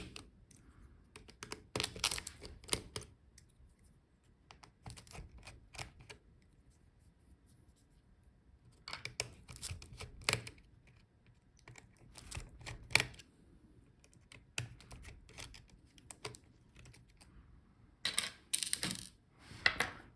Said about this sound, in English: Okay, so take off all the screws.